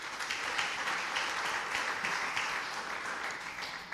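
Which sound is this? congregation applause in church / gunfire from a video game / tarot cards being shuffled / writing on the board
congregation applause in church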